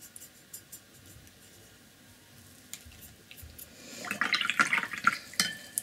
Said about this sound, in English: Add some water to make this color more liquid.